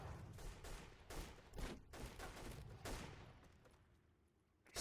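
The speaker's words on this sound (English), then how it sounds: "I hear his cannon." Enemy cannon fire in the 2009 PC video game Delta Force Xtreme 2: a rapid series of loud, booming blasts in irregular bursts that tail off toward the end, with no talking.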